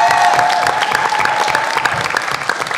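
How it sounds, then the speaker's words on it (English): An audience at a youth entrepreneurship challenge breaks into sustained applause, a loud, even roar of many hands clapping throughout, with faint crowd murmur beneath. "Can we just give Zachary a round of applause?"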